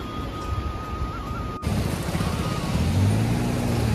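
Vehicles passing one after another on a damaged, rain-soaked road between Kotdwar and Durga Devi temple, a steady rumble of traffic building louder toward the end.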